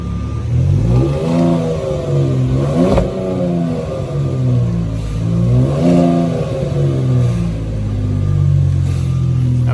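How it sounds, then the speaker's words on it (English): A 2020 Ford Raptor on its factory exhaust, starting cold and then revving repeatedly, loud and close, each rise and fall of engine pitch giving way to a deep, rumbling idle. "let you hear the cold start with the factory exhaust"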